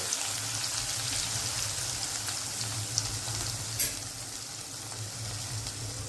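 Two to four chopped green onions frying in a pan for a spicy tiffin dish, a steady, close, continuous sizzle with faint stirring scrapes and no voices.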